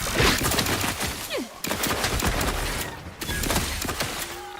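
Weapon fire in the video game The Outer Worlds 2: rapid, dense bursts of gunshots blasting continuously across the clip, loud and close, with brief gaps between volleys and no talking.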